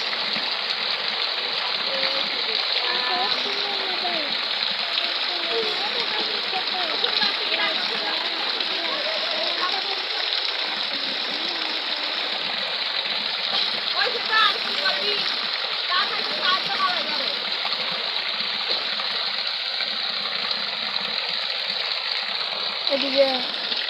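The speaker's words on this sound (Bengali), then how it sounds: "এদিকে পানি বার করছে" Water pours and splashes out steadily in a continuous rushing gush, fairly close, with people talking over it throughout.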